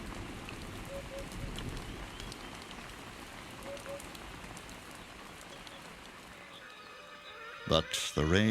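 Steady rain patters on a surface with a soft, even hiss, ending in a few sudden louder knocks and clatters.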